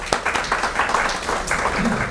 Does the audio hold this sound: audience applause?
yes